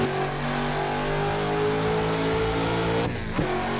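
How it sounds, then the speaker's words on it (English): A BMW E39 M5's V8 in the racing game Assetto Corsa holds a steady, loud revving drone, then briefly drops and swoops near the end. "Yeah, it does have a very distinct V8 sound to it."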